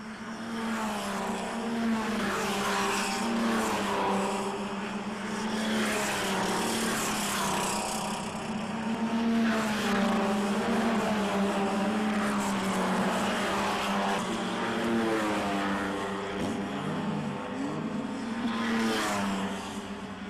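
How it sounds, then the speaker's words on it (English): Race cars in a 1994 3 Hour race at Calder Raceway, a continuous loud engine drone with rising and falling pitch as cars pass and work through gears. "Steve Monterosso still leads with 3 slower cars in front of him."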